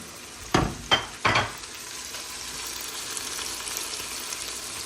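Bluefish pieces drop into a hot chowder pot in three quick splashing bursts, then settle into a soft, continuous sizzle and bubble nearby.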